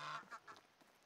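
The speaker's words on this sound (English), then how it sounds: "A gosling and a goose and a gander." Geese honk in the video game Medieval Dynasty: a handful of short, nasal honks in quick succession, fairly faint and with no voices over them.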